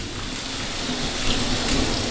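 Steady rain falls outdoors during an Onam celebration, a dense, even hiss of drops on surfaces, close and continuous with no voices.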